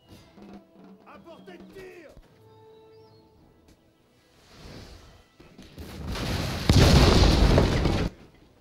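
Cannons shell enemy units on a Napoleon: Total War battlefield, deep booming blasts and rushing bursts that build into a loud, sustained roar after quieter game sounds, with a voice talking early on.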